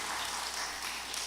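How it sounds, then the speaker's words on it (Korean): A church congregation claps together during a worship service, a short, even wash of applause heard at a distance and fairly quietly. "우리 하나님께 영광의 박수 한번 올려드리겠습니다"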